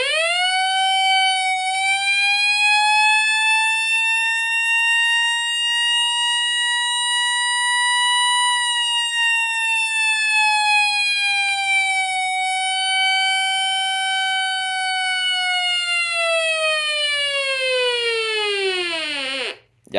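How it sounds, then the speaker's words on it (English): Weather radio sounding its alert siren, a low-pitched continuous wail with rich harmonics that holds steady, dips slightly, then slides downward before cutting off abruptly near the end; loud and alone, no talking. "the siren's also pretty low pitch on this"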